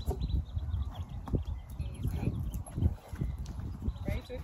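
Hooves of a Tennessee Walking Horse at a flat walk give irregular soft thuds amid rustling noise, close by, with no clear talking.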